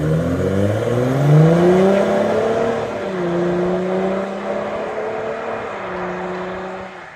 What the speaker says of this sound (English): with an aftermarket exhaust, the taps open up even more.